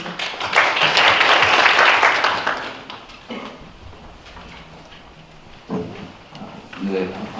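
Audience at a disaster-relief policy forum applauding a speaker's introduction, a loud burst of clapping that swells then fades over a few seconds, followed by shuffling and a voice starting to speak.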